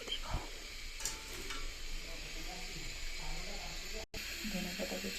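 Pabda fish dropped into a boiling fish curry gives a steady broadband hiss and sizzle that runs throughout, with a few brief clatters and a momentary dropout near the end.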